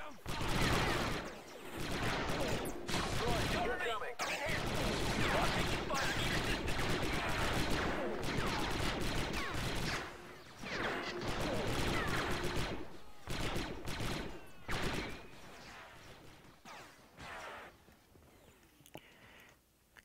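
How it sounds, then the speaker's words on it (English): Gunfire in the World War II strategy video game Men of War: dense rattling volleys and scattered shots that rise and fall across the battle, with quieter gaps near the end. "Now I just want to get close enough to start firing at these guys over here."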